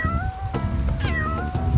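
A cartoon cat in the Avatar World game gives a few close, clear meows in quick succession, high and wavering, with no one speaking over them.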